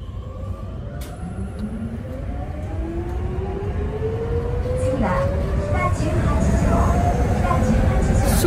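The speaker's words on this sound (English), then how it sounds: "this train actually goes super duper fast" A fast train speeding along, heard from inside as a loud continuous rumble that builds steadily, with rising whining tones and occasional clicks over the rails.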